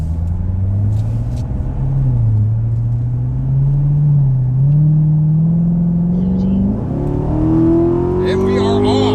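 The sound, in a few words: C7 Corvette accelerating in 60-130 roll race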